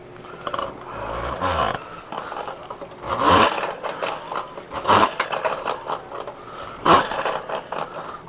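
A toy vehicle's machine-gun sound mechanism gives irregular raspy, ratcheting bursts with scraping clicks as it is pushed along, close and moderately loud, with pauses between bursts.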